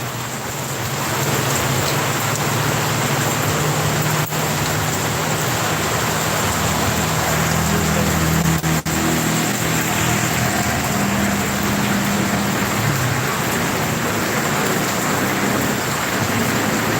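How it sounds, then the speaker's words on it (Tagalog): Heavy, steady morning rain in Bicol, Philippines pours down in a dense, constant hiss with no voices. "parang humina na yung ulan"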